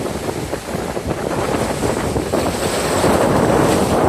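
Strong ocean surf roars continuously at Laomei Green Reef, loud and close, with heavy wind buffeting the microphone throughout.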